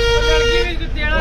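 A car horn sounds in a sustained, steady toot over road and traffic noise, with people talking nearby.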